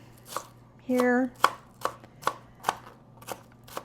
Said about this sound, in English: just chopping up some onion